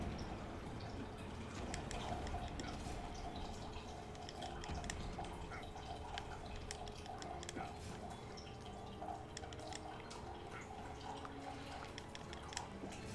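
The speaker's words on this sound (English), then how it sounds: "You guys are going to hear some background noise. That's my coffee." Coffee dripping and trickling as it brews, a faint, steady patter of drops and liquid running into a cup, with soft background noise and no speech.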